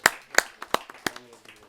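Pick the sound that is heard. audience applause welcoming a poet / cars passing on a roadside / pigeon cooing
audience applause welcoming a poet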